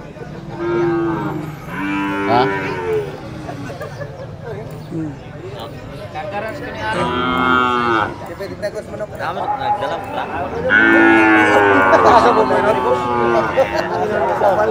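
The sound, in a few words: cattle mooing at a cattle market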